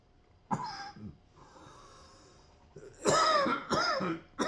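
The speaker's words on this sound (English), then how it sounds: "I don't know why I'm coughing so much." Several harsh coughs, one early burst followed by a wheezy breath, then a cluster of loud, close coughs near the end.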